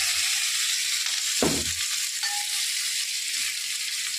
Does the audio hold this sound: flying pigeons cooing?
no